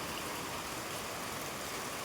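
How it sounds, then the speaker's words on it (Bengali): Heavy downpour in a village, a steady faint hiss of rain with no break and no voices. "এখনো আমরা ফেসে আছি বৃষ্টিতে, মুষলধারে বৃষ্টি"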